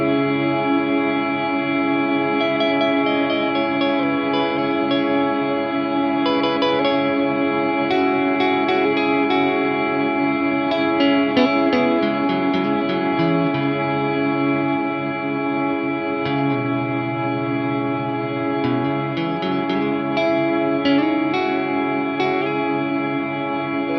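An electric guitar runs through an Electro-Harmonix Cathedral reverb pedal, with chords held in a loud, unbroken, shimmering sustain while new notes drift over the top, and no voices.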